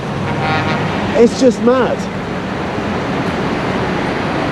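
Busy street traffic in Beirut keeps up a dense roadway rumble, broken by a few short car horn toots near the middle, while someone talks close over it.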